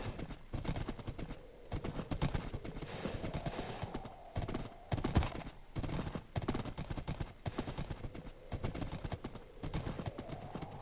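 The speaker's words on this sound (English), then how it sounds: "This horse is a lifesaver." Horse hooves galloping in the video game Seven, a fast, rhythmic drumming of clip-clopping beats that runs throughout with a few short breaks, moderately loud and alone.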